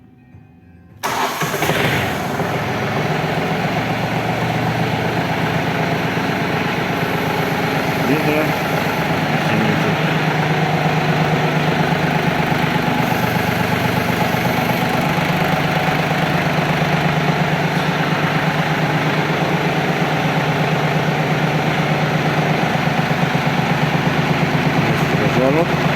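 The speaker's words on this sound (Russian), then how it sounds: "Трактор работает мягко, без каких-то посторонних звуков и вибраций." A Yanmar RS-270 Japanese mini tractor's small diesel engine, 503 hours, cranks and catches, then settles into a steady, even idle that runs on loud and close without changing.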